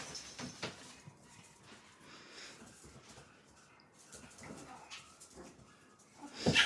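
A puppy playing with other dogs: soft scuffling, faint whimpers and brief yips scattered at low volume, ending in a louder, sharper burst of noise.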